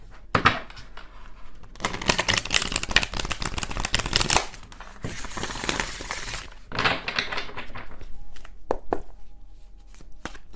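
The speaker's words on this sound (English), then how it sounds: "One more shuffle" A deck of tarot cards is shuffled in close, crisp riffling bursts, one long flurry followed by shorter ones, ending in a few light taps and clicks.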